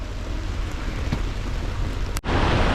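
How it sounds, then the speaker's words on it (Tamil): Heavy rain pours onto a lake in Alappuzha in a constant broad rush, loud and unbroken, with a sudden brief dropout near the end before the downpour resumes. "இப்போ தான் கனமழையாக பெய்யுதுங்க லேக் ஃபுல்லாக தண்ணி எப்படி விழுதுன்னு பாருங்கள்"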